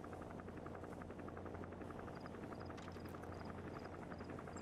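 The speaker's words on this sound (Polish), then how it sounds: "Śmigłowiec, widzę." Helicopter in the video game Metal Gear Solid V: The Phantom Pain, a steady rotor drone holding at moderate level throughout, with faint insect-like chirps above it.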